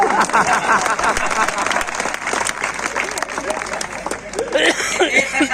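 Loud, steady audience applause at a Hindi comic poetry gathering, a dense wash of many hands with chatter and a little laughter underneath.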